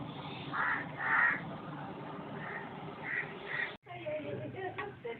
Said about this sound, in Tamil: காக்காய்களை வெயிட்லிங் இருக்கு.